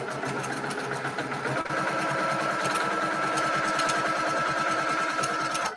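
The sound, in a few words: sewing machine stitching quilt block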